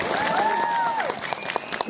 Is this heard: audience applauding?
yes